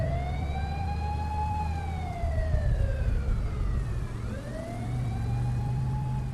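A police car siren wails in long rising and falling sweeps, steady and fairly loud over a low rumble of traffic, with no voices.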